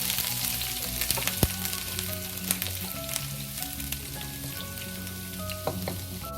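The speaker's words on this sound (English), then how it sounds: "add the rest of the ginger into it and fry it" Ginger frying in hot oil for Peking sweet bean paste pork makes a steady, close crackling sizzle with scattered pops and spits throughout, with no talk.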